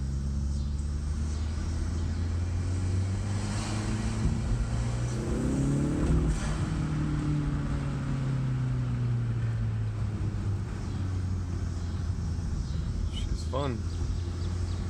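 A Hyundai Veloster Turbo fitted with an Injen intake pulls through second gear, its engine droning low and steady with a rising rumble around the middle, heard from inside the cabin with occasional faint background sounds.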